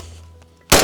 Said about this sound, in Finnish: Ammutaan ase loppuun, otetaan tommonen tiukka sarja ja katsotaan kuinka nopeasti tällä pystyy ampumaan.